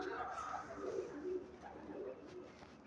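Soft, low pigeon cooing rolls on continuously, fairly faint and close, with a gentle murmuring quality.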